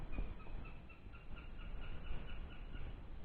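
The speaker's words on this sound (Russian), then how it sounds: "Мне кажется, что лиса пищала такие звуки, издавала такие писклявые." High, thin squeaks from what is taken to be a fox in an autumn forest repeat in a steady, evenly spaced series, faint and somewhat distant over a soft rustling background, with no talking.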